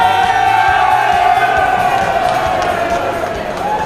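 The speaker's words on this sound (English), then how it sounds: "You get a few of your mates behind you shouting and screaming" Darts crowd at the 2009 UK Open roaring, cheering and shouting for player Ken Mather, a loud, sustained wall of voices with whoops that stays dense for the whole stretch.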